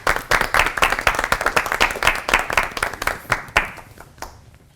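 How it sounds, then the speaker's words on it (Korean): An audience applauds to welcome the officiating pastor at a church sermon service: dense, lively clapping from a crowd that holds steady for several seconds, then thins and tapers off toward the end. "주례 목사님을 박수로 모시겠습니다."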